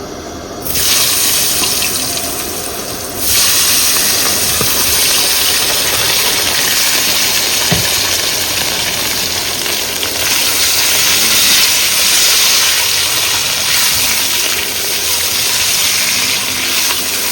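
Potatoes go into a hot pot at an outdoor riverside cooking spot, setting off a loud, continuous hissing sizzle that starts abruptly and holds steady at close range, with a small knock partway through and no voices.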